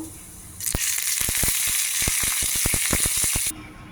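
A sudden burst of sizzling as tempering spices with asafoetida hit hot oil, crackling with rapid sharp pops for about three seconds, then cutting off.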